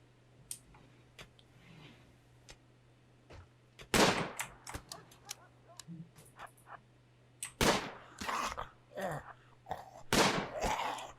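Gunfire aimed at zombies in the video game RimWorld comes as scattered sharp shots and clicks, some loud bursts clustered around the middle and end, over a faint steady hum with no talk.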